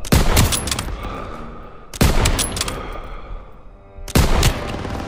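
Turret machine-gun fire in a Call of Duty WW2 campaign battle, a loud, continuous rattling barrage close up, with three sharp heavy blasts punctuating the steady roar.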